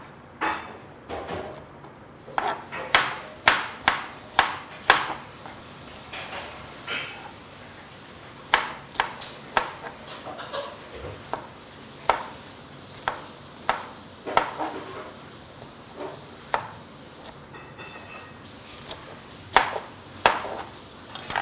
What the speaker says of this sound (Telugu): సో ముందుగా పైనాపిల్ని కట్ చేద్దాము